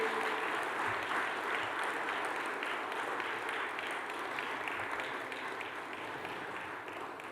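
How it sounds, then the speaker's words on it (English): Sustained applause fills a large hall at an Indo-French investment conclave in Hyderabad, a dense, even wash of many hands clapping that holds steady throughout and fades slightly toward the end. "Can we keep the claps on?"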